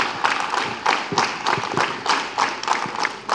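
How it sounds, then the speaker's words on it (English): Children at a school morning assembly clap their hands together in unison, with a fairly regular run of about a dozen crisp, moderately loud claps over a faint room background. "Clap your hands."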